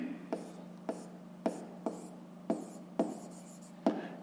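Pen writing on paper while working a 5th-grade math exercise, with repeated short scratchy strokes spaced roughly half a second apart over a steady low hum, close and fairly quiet.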